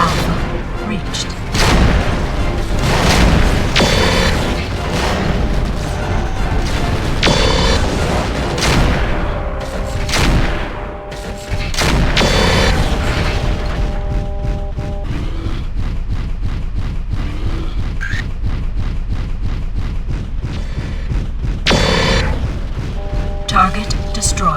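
Explosions and heavy blasts boom repeatedly in MechWarrior 4: Vengeance, loud and dense over continuous game noise, with a dry rapid rattle of weapon fire in the second half and game voices talking over it.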